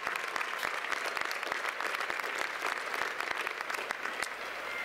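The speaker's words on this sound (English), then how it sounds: "let's give another round of applause to your family, especially to all of the fathers out there on this beautiful Father's Day." Sustained applause from a large commencement crowd at Oregon State University on Father's Day, a thick wash of clapping with sharp individual claps standing out throughout.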